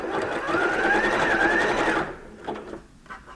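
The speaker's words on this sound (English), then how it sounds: "Now I'm going to sew the seam" A sewing machine stitches a seam through faux fur scraps for patchwork fabric, running close and steady for about two seconds with a faintly rising whine before stopping, followed by quieter handling sounds.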